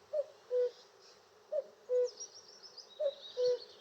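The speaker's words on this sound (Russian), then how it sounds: "Вот это и есть кукушка." A common cuckoo calls three times in a regular rhythm, each a clear two-note cu-coo, moderately near over quiet outdoor ambience, with faint higher bird sounds in the background.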